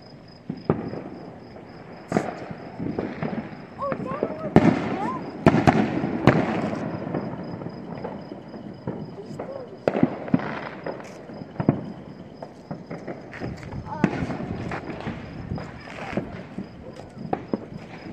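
Fourth of July fireworks burst repeatedly at a distance, sharp cracks and booms scattered across the whole stretch, with people talking and exclaiming over them throughout.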